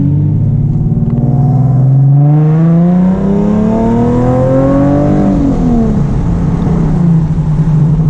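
A straight-piped Nissan 370Z exhaust accelerates hard, loud and close, its rasping drone climbing through the gears with a brief dip at a shift before pulling again.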